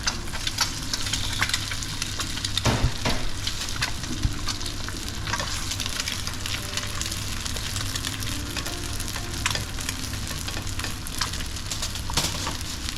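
Steady crackling sizzle of cut tofu pieces frying in hot oil for pad thai, with a few clinks of a utensil against the pan.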